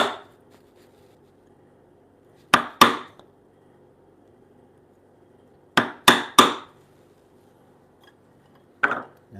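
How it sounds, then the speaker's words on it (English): Sharp wooden knocks from hand-chiseling out a wood tenon on a timber-frame toy block: a double strike, a pause, then a quick triple strike and one last hit, each crisp and close in a quiet shop. "I'm just gonna chisel it out"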